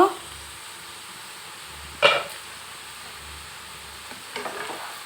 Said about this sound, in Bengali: ডাটাগুলোকে একটু নাড়াচাড়া করে এবারে ঢাকা দিয়ে দিচ্ছি